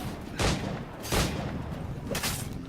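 Three loud, sharp gunshots from a firearm in Assassin's Creed IV Black Flag ring out about a second apart, each with a brief echoing tail over steady background game noise.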